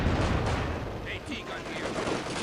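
Continuous battlefield gunfire in the World War II strategy game Company of Heroes 2, dense, rumbling shots and distant rattling bursts blending into a constant din, with voices briefly shouting amid it.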